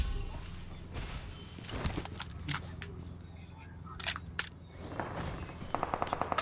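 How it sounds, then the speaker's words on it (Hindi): Gunfire in the BGMI battle royale mobile game: scattered single shots, then a rapid automatic burst near the end, moderately loud against quiet in-game ambience. "क्योंकि भाई इधर से कुछ फायरिंग आ रही थी बंदों की"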